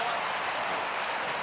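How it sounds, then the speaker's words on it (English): A Sydney Swans home crowd at an Australian football match roars in a dense, continuous wall of cheering and clapping. "listen to this crowd here"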